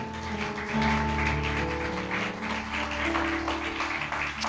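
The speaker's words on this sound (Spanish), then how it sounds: "Puede darle un fuerte aplauso al Señor" A church congregation applauds during a Spanish-language resurrection service: a dense, continuous wash of clapping sits under sustained keyboard chords and holds steady throughout, with no speech.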